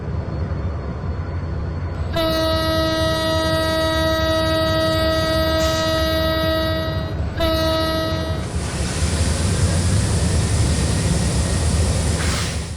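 Locomotive 6602 of the Kapotaksha Express sounds its horn in two long, loud blasts up close, followed by a surging engine roar as it throttles up and strains to move.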